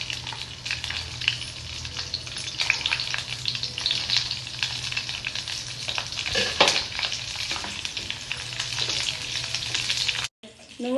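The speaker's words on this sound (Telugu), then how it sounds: "కడాయి పెట్టి ఒక స్పూన్ నూనె పోయాలి. పోసి మిర్చి వేయాలి." Green chillies fry in a spoonful of oil in a kadai, a dense, close sizzle with scraping stirs and scattered crackles that carries on steadily, then cuts out briefly near the end.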